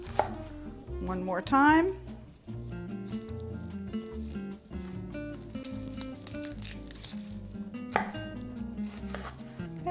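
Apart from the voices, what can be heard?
knife chopping onions on a cutting board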